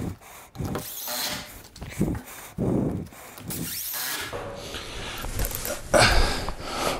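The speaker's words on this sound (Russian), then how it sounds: "Здесь я на макете прикручу это одним саморезом." A self-tapping screw is driven into a roof eave mock-up with a power driver, giving several short whirring bursts of the tool between pauses, close by, with some handling noise.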